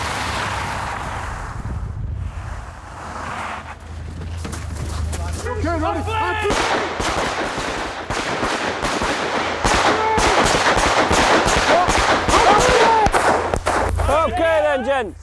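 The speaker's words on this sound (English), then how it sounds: "we shoot from different distances, from 5 metres back to 20 metres" Police officers fire handguns at a shooting range from distances of 5 to 20 metres. Sharp, rapid shots crack in dense, uneven volleys that grow busier toward the end, and people talk underneath.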